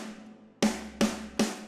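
Three programmed snare drum hits at identical velocity, evenly spaced and equally loud, each a sharp crack with a short decaying ring, heard alone after a faint tail.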